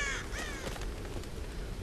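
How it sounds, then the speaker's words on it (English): Crows cawing in a mountain village area of Tomb Raider, a couple of harsh caws at the start over a steady ambient wind-like background, fading into more distant bird noise. "And that's a ton of birds that we can't shoot."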